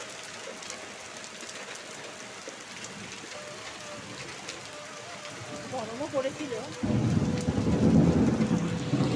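Midday rain falls steadily with rumbling thunder in a village, a constant hiss that swells louder and heavier toward the end, while someone speaks briefly over it.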